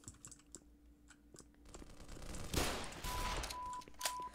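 Video-game gunfire from Black Mesa, a shot fired at point blank, comes as a loud sudden blast amid a burst of rapid shots, following earlier scattered clicks and small impacts.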